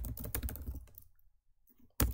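Quick clicking keystrokes on a computer keyboard, close and fairly quiet, a short run of taps, a pause, then more taps.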